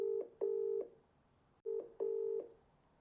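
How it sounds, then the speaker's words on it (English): Telephone keypad dialing tones for a call, heard as four steady beeps in two pairs with short gaps between them. The beeps are clear and close, with no talking. "let's ring this guy"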